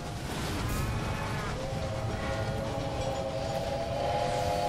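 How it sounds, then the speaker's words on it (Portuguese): A train runs in the video game Railway Empire, with a steady low rumble of rolling wheels and faint tonal whistle-like lines throughout, at moderate distance and without talk. "Fala, trenzinho, vamos ver o trem do lado aqui."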